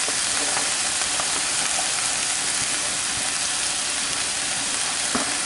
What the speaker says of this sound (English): So we're just going to let these saute.